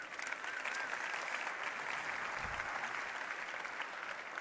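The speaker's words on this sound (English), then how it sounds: "let's give them a round of applause" A large audience at a Web Summit 2017 hacking session in Lisbon gives the organizers a round of applause. The clapping forms a dense, steady roar that holds at an even level, and a brief low thump sounds midway through.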